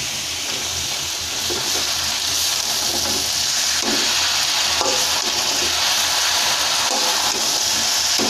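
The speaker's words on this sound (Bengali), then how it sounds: "আমার শাক ভাজিটা হয়ে আসছে একদম পারফেক্ট পাটের শাক ভাজি।" Jute leaves fry with onion and garlic in a pan, a loud and continuous close sizzle with occasional stirring clacks that keep the same even hiss throughout.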